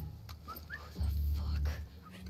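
A dog whimpers and whines softly in The Last of Us Part II, with brief high yelps over a low rumbling game backdrop and a voice talking in the background.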